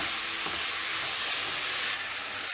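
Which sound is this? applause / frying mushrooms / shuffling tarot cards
frying mushrooms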